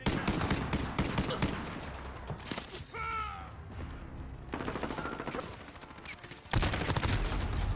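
Rapid bursts of automatic gunfire rattle in a Call of Duty Modern Warfare 2019 multiplayer match, mixed with mechanical clatter and brief quieter gaps, a loud volley returning at the end.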